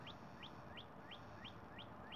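A red robin calls outdoors with a short rising chirp repeated at an even pace about every third of a second, faint against a steady background rumble.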